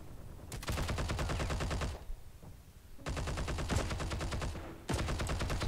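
MG42 machine gun from Heroes and Generals firing three long automatic bursts with short pauses between them, loud and close, with no talk.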